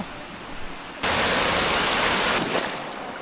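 Waves washing onto the shore of Lake Superior, a sudden loud, steady rush of surf that swells and holds close by, with a quieter breezy lakeside ambience before it and no voices.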